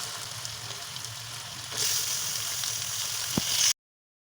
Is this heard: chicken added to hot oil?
yes